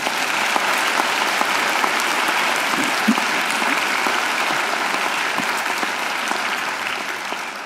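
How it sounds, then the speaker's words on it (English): A graduation ceremony audience gives a sustained round of applause for a singer, dense even clapping that holds steady at full strength throughout. "I think Angela deserves another great round of applause"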